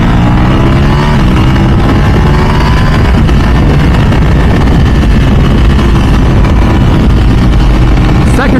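A Ducati sport motorcycle ridden in third gear roars loudly and steadily throughout, a dense, continuous engine drone mixed with wind rush, up close and without pause.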